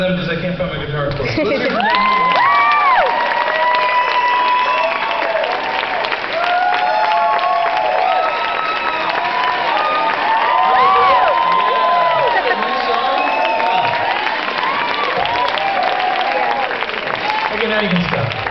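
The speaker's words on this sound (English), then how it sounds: "Please keep clapping for them" Concert crowd keeps up loud sustained clapping with shouts, whoops and cheers scattered throughout, a dense continuous wall of applause from a large audience.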